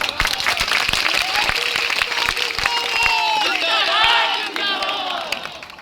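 Dense crowd applause and cheering at an outdoor Indian Inclusive Party political rally during the Inquilab Yatra in Naugachia, Bhagalpur, loud and sustained, with rapid clapping throughout and rising shouts of voices near the middle.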